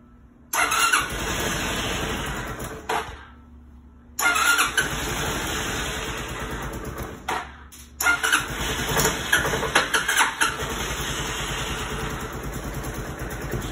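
A Jonway 250 scooter engine starts and settles into a steady idle, loud and close, with two brief drops where it cuts out before catching again and running evenly. Nobody speaks.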